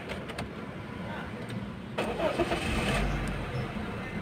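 Honda Mobilio 2015 ex-taxi with high mileage cranks and fires up, settling into a steady mid-pitched idle that grows slightly louder after starting, with faint background noise.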